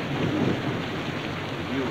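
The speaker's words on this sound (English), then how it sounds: "Are you afraid of thunder?" Thunder rumbling amid steady heavy rain, a continuous low roar and hiss that stays loud and even throughout with no talking.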